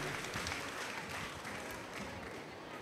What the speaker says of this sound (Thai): ปรบมือให้3คนนี้ก่อนครับ